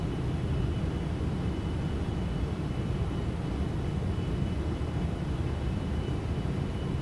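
A Boeing 777-300ER in the X-Plane 12 flight simulator produces a steady, broadband engine and airflow roar that stays even and unbroken throughout.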